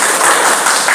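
Classroom applause during a teacher's practical teaching exam lesson: a dense, steady wash of clapping hands that fills the whole moment, moderately loud and close, with no voices standing out.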